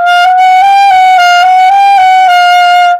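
A sustained saxophone note, played with the mouth shaped like an O vowel for a wide, round tone, holds clear and loud at close range for about three seconds. Slight pitch wavers pass through it, then it stops cleanly.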